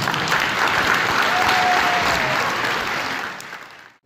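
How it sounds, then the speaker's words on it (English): An audience in a hall applauds new Eagle Scouts at a ceremony, a steady, full round of clapping at moderate distance that swells briefly and then fades away near the end. "give them a big round of applause."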